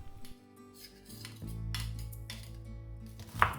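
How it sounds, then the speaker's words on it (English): Cannellini beans mashed in a bowl: soft, close scraping and dull clinks of a utensil against the bowl, quiet and uneven over a few seconds, with no speech. "First, mash some cannellini beans."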